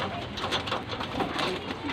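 Pigeons kept for sale coo steadily and seem to squabble, their overlapping throaty calls filling a busy space with faint voices underneath.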